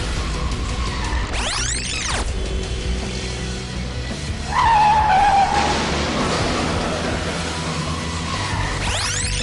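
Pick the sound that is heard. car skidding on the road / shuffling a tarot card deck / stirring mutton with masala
car skidding on the road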